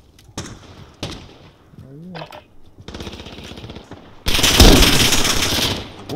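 Gunfire from a Glock pistol in the Modern Warfare shooter game, several sharp close shots in quick bursts, then a loud dense volley near the end.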